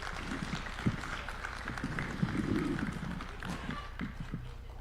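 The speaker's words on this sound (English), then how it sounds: "Another round of applause for His Excellency" An audience applauds President Ruto at a State House gathering, a steady roomful of clapping that swells briefly in the middle, with a voice heard faintly alongside.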